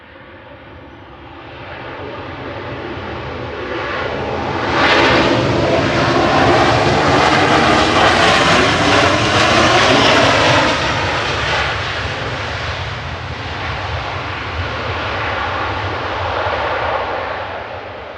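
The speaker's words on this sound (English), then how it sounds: "just coming over the threshold is EIDWR, a 16-year-old 737-800 for RyanAir with flight 3544 from Nantes" A 16-year-old Ryanair Boeing 737-800 jet crossing the threshold to land at Manchester Airport. Its roar swells loud and close over a few seconds, then holds a broad, steady rumble as it passes.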